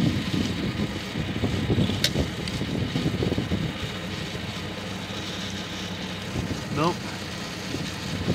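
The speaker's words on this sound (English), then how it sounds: "Or did it miss the cam? Nope, that's the fast idle." A 1974 Dodge Dart engine, woken after five years of sitting, runs at a steady, raised fast idle, a continuous low rumble close by with faint mechanical clatter on top.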